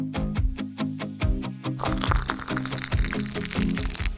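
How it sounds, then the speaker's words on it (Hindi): Water is poured onto a plant in a short run of splashing, trickling pulses that keeps going steadily and close up, with a busier mix of sound joining partway through. "ठीक है, चलो इसको पानी देते हैं।"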